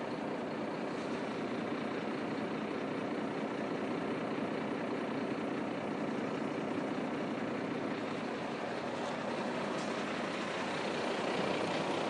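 A TU2 heavy goods truck engine runs at a steady, low, unbroken rumble throughout, close and continuous with no talking.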